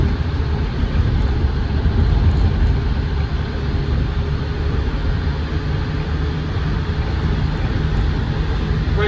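A Land Rover Defender 110 TD5 double cab diesel engine runs at a steady, loud, low rumble, idling evenly and close by without pause.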